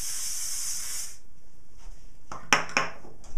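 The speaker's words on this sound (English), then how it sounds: "spray it once more with a heat protecting shine spray." A short burst of heat-protecting shine spray aerosol misted over hair, a steady close hiss lasting about a second, followed by quieter handling sounds and a couple of sharp clicks.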